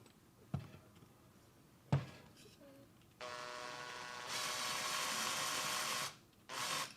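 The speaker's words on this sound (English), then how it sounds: "So we're going to continue with the drilling." A power drill bores into the wooden stock of a Japanese Type 99 Arisaka rifle: a couple of sharp knocks, then a sustained whine that rises in pitch and stops, with a short second burst at the end.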